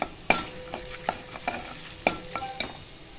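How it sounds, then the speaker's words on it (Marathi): Ground masala paste (vaatan) being stirred and sautéed in a pan for a spicy bhaji rassa, with soft frying sizzle under several sharp scrapes and clinks of a spoon against the pan. "आता ह्याच्यामध्ये जे आपण वाटण केलं होतं ते वाटण आपण टाकतोय"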